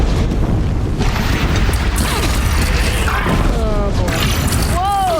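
A bridge shot down and crashing apart in Horizon Zero Dawn, a loud sustained rumbling collapse with heavy crashes and debris, while a voice speaks briefly over the din.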